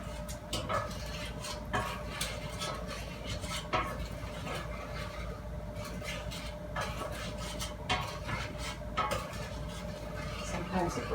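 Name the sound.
stirring white and brown sugar in a bowl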